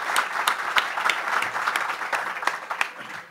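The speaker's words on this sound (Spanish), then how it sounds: "un aplauso también," Audience applause at an exhibition presentation, a few seconds of lively, moderately loud clapping with distinct individual claps standing out.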